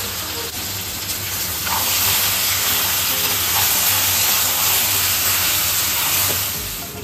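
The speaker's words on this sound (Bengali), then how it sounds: "দিয়ে দিচ্ছি চিকেনগুলো। এবার এতে একটু ভেজে নেব চিকেনটা।" Chicken pieces fry in hot butter with cumin seeds, giving a loud, steady sizzle and hiss that swells after the first second and holds close and constant to the end.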